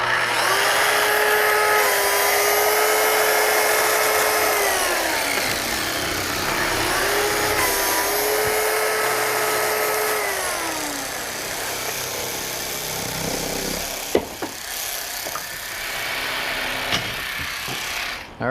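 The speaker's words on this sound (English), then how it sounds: "I'm going to cut these if you want to finish the cut up with the jigsaw" A power jigsaw cuts through wooden stair stringers in a loud, continuous whine whose pitch dips and recovers under load for about thirteen seconds, then stops, followed by a few clunks of handling.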